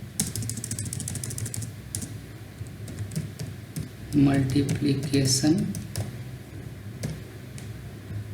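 Fingers tap on a computer keyboard while Python calculator code is entered, a run of quick, close key clicks with a denser burst midway, under steady talk.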